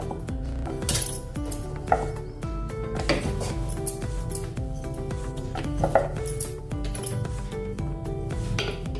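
A rolling pin works bedmi puri dough on a wooden rolling board, producing repeated light knocks and clattering taps in an uneven rhythm, close and fairly quiet.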